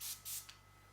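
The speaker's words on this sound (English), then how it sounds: "and spray the aerosol, you'll see the beam of light" An aerosol air freshener sprayed indoors: two short hissing bursts close together, then a brief final puff, in an otherwise quiet room.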